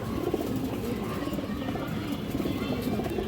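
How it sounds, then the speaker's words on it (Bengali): A pair of Lal Chulli pigeons coo softly and low, partly buried in a steady, dense wash of background noise that continues throughout the few seconds. "এই যে পেয়ারটা দেখেন দর্শক লাল চুল্লি পেয়ার"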